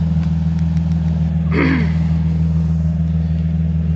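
A Nissan 350Z fitted with a cheap aftermarket exhaust idles with a steady, loud low drone, and a brief blip of revs rises and falls midway.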